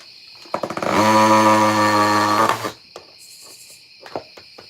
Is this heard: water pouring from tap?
no